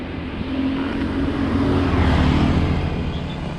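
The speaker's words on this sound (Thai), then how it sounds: "รถมา" A car goes by on a quiet residential street, its engine and tyre noise swelling toward the middle and staying fairly loud before easing slightly, heard from the roadside with no talking.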